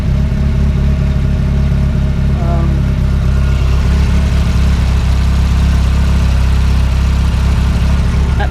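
A car engine idles steadily through an alternator test, with the fuel pump, injectors, ignition and ECU all drawing current; a continuous low hum with a few faint mechanical clicks and no revving.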